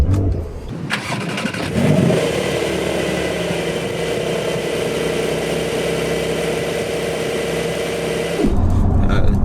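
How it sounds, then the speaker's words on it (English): A Porsche 911 Carrera 4S engine cranks and fires up, then settles into a steady, loud idle with a deep rumble before cutting off near the end. "Start the engine with this."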